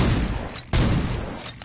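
Shotgun blasts in Saints Row 2, two loud booming reports with a short gap, each followed by a brief decaying roar, with no talk.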